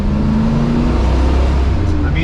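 A 1979 Ford F-350 engine fitted with a 2-barrel carburetor idles steadily close by, its low, even rumble holding a constant pitch throughout with no revving.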